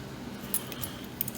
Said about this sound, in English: I've got a whole bunch of change keys here.